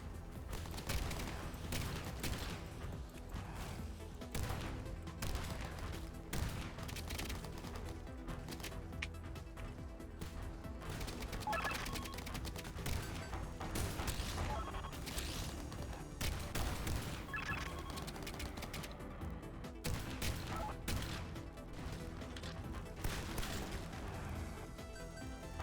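Shotgun fire in the video game Gearbits, with repeated loud blasts going off in rapid bursts over a busy game soundtrack for about twenty-five seconds.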